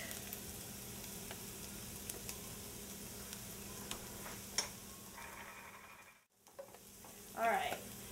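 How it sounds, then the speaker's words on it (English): Garlic sizzles quietly in a pan for a cream cheese risotto, a soft steady hiss with faint stirring ticks and a brief scrape, close but low in level with no talk. "Now I'm going to add the garlic"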